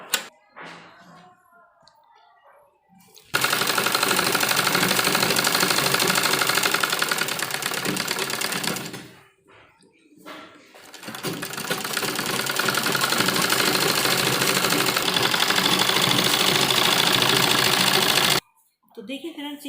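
Sewing machine stitching an old dupatta into a kurti, running in two long loud continuous bursts with brief stops, after someone talks at the start.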